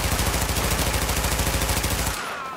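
Rapid automatic gunfire in The Division video game, a loud, steady burst of evenly spaced shots that continues for about two seconds before cutting off abruptly.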